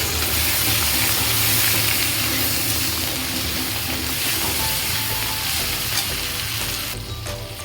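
Garlic paste, ginger paste, chili powder, turmeric and salt fry in a pan with a loud, dense, continuous sizzle, stirred steadily, the noise easing slightly at the very end.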